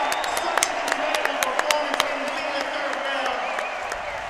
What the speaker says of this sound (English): This crowd is going insane.